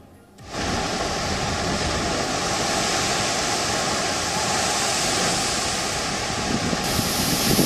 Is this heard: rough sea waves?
yes